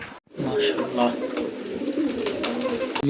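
Pigeons, including Giribaz racing pigeons, coo steadily in a low, throaty murmur, several birds overlapping close by, with faint voices and rustling in the background.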